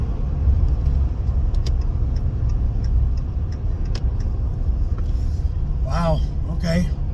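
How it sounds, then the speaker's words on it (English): Car driving through heavy traffic in Ottawa, with a steady low road and engine rumble throughout, some faint ticking, and brief bursts of voices toward the end. "we've encountered some pretty heavy traffic here"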